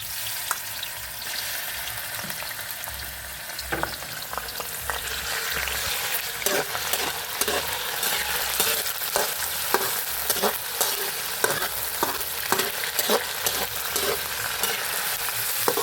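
Chicken sizzles and fries in a pan while being stirred, a steady crackling hiss punctuated by frequent sharp scraping clicks of the utensil, close and continuous with no talk.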